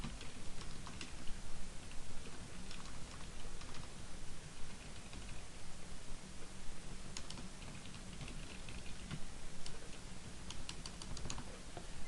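Typing on a computer keyboard while entering instructor information, soft steady clicking of keys at a moderate pace, quiet and close over faint background hiss with no talking.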